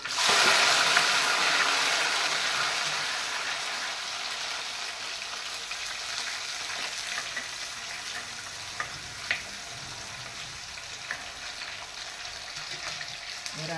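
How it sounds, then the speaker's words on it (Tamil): Small onions (shallots) dropped into hot oil for prawn curry give a loud, dense frying sizzle that starts strong and settles gradually into a steady crackle, with a few faint clicks of a spoon and no speech. "கொஞ்சம் பொரிஞ்சு செவந்து வரக்குள்ள இந்த வெங்காயத்தை போடணும். சின்ன வெங்காயம்."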